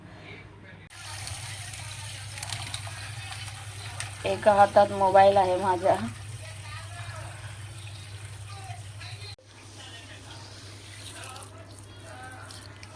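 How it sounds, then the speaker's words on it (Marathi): Moong, matki and chickpeas are washed in several changes of water in a home kitchen before overnight soaking for sprouting, with soft sloshing and splashing beneath a person speaking Marathi. "चला याला चार पाण्याने तीन चार पाण्याने धुऊया मस्त आणि नंतर भिजत घालूया रात्रभर"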